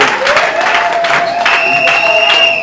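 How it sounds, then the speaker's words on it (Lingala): Audience applause and cheering at a customary wedding celebration, a steady dense wash of clapping with voices calling out over it and a sustained tone running through. "Est-ce qu'on peut acclamer pour la gloire?"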